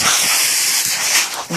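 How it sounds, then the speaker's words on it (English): Dogs barking and yipping outdoors in the snow, loud and fairly close, with a steady noisy background and a brief low burst near the end. "excuse the dogs barking"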